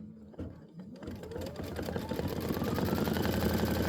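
An Aveneer embroidery machine runs a final stitch-out of Halloween scene tiles, starting with a few sparse clicks, then speeding into a rapid, even mechanical chatter of needle strokes close by.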